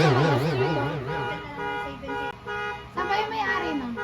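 A car alarm wails outside a home in Taiwan in cycling warbles and whoops, loud and continuous, with a person speaking over it.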